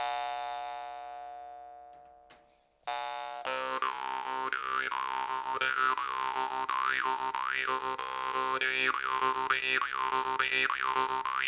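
A Vashkovych drymba jaw harp in C2 rings with a twangy drone whose overtones sweep up and down in a rhythmic, vowel-like wah pattern after a brief decaying pluck and pause, played close and alone.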